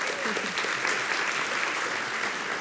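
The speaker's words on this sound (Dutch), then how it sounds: "Een heel warm applaus voor Suzanne Smit." Warm studio audience applause for a guest arriving on a Dutch talk show about modern spirituality, a dense, steady wash of clapping from the crowd that holds evenly throughout without a break.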